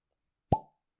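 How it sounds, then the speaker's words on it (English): A cork pops from a bottle with one sharp, close, hollow pop that fades quickly into silence. "Pop the cork, see if it's cheeky."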